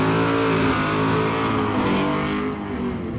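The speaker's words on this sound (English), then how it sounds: "completes his burnout past the starting line and rolls the car 150 feet down the drag strip" A drag racing car doing a burnout at the starting line during Drag Week 2012 gives a loud, continuous engine roar with tire noise, close and unbroken, easing off slightly near the end.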